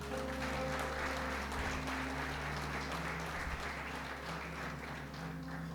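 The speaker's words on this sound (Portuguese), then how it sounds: "Você pode aplaudir o Senhor aí?" A Portuguese-speaking church congregation applauds in praise, a continuous, even roar of many hands clapping at moderate distance over a low sustained instrumental hum.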